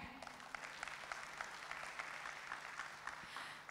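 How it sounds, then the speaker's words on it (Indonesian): Audience applause at a wealth-planning seminar in a hall, a steady patter of clapping at moderate distance, fairly soft and even for a few seconds. "Boleh saya minta tepuk tangannya?"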